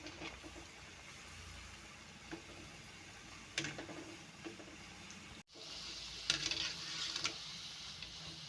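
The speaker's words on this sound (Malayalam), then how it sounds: "എന്നിട്ട് എണ്ണയിലോട്ട് ഇട്ട് കൊടുക്കുക" Banana pieces frying in hot oil while making pazham, a low steady sizzle with a few soft stirring ticks, brightening and swelling louder in the second half.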